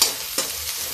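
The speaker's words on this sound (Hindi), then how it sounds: "प्याज पकता है।" Onion frying in a pan, heard as a brief, close sizzle with a sharp stirring scrape partway through and no voices.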